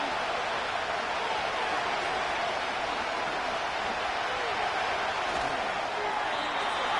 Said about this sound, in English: The noise very loud from the crowd.